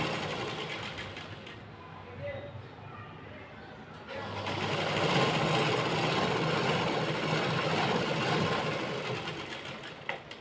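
A sewing machine runs a continuous rattling stitch along a Farsi salwar seam. The rattle gets louder and fuller partway through and carries on steadily to the end.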